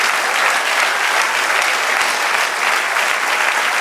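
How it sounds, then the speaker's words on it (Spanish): A church congregation at a Spanish-language service claps steadily, a loud, dense and continuous roar of hands from start to finish with no voices standing out. "Dale otro aplauso al Señor."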